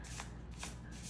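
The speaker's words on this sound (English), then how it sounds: "So feel free to skip the shuffling, because it may take me a little." Tarot cards being shuffled by hand, a quick run of soft riffling bursts at an even rhythm, close and quiet, no voices.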